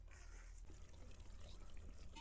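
Water is poured into khatiya dhokla batter mixed with chopped garlic, green chillies and onion, giving a faint, steady, soft pouring wash that lasts the whole short moment.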